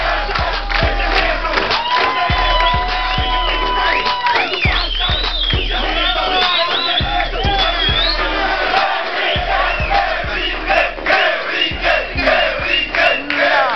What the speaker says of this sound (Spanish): Un fuerte aplauso para Valeria 34C.